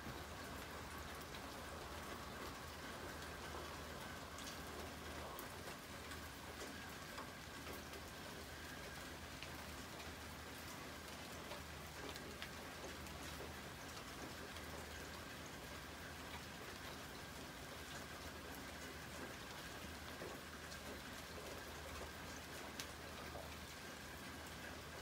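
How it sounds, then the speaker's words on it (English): Heavy rain pours down in a steady, dense hiss that stays constant from start to finish, loud and close, with no voices. "A couple nice rounds of heavy rain."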